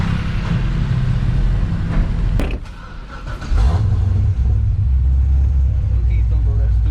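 Chevrolet Corvette C6 Z06 engine on a canyon drive, a steady loud low rumble from inside the car that dips briefly and swells back as it accelerates, with talk over it.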